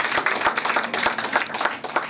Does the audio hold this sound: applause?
yes